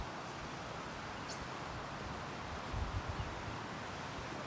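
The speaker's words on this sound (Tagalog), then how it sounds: "In front of the house is quite windy again today." Wind blows steadily in front of a house on a Bermuda bay road, a constant rushing and buffeting roar with faint rustling, no talk.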